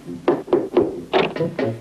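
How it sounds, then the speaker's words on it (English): A cartoon door is knocked on with six hollow wooden raps, three evenly spaced, a short pause, then three more, close and crisp with no voices. "Now, knock on the door."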